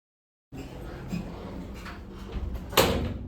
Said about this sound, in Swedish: Dörrarna stängs.